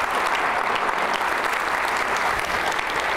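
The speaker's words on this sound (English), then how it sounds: "So let's give them a round of applause." At the Grand Prairie State of the City Dinner 2019, a crowd of diners claps for Gold Glove competitors, a dense, continuous burst of applause filling the whole moment.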